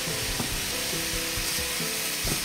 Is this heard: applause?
no